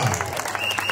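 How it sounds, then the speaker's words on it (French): Guests at a customary wedding in Libreville applaud, a brief burst of mixed clapping with a voice over it. "On se lève, on applaudit, on se lève, on applaudit."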